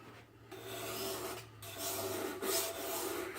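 A knife edge strokes across an oiled sharpening stone in short rasping finish passes, a few quick rubs with brief pauses, close and quiet.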